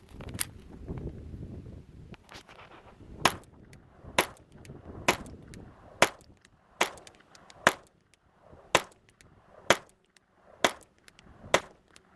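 A Ruger Mk IV target pistol with a threaded barrel fires CCI standard velocity .22 rounds, about ten sharp, fairly quiet shots at a steady slow pace, each cracking cleanly against a quiet outdoor background.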